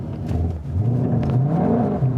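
A 2020 Shelby GT500 revs hard during a line-lock burnout, its engine note rising and swelling in a loud, continuous roar with a deep low rumble that climbs in pitch toward the end.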